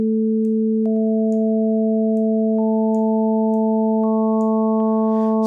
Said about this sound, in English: That's your sine wave.